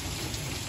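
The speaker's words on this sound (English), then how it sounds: "It just looks like regular rain, which that's what it is right now, but all the heavy stuff is coming." Steady rain falling outdoors near Houston ahead of a tropical storm, a dense, even hiss of drops striking surfaces, brief and close with no voices.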